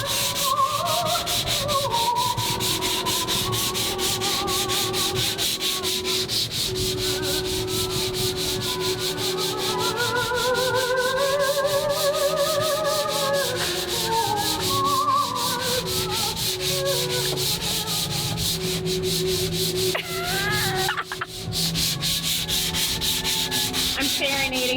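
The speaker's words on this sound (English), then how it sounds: "Of course, sanding." Steady, continuous sanding scrapes across a boat hull, loud and close for the whole stretch, with a person whistling a wandering tune over the top and brief pauses in the rubbing.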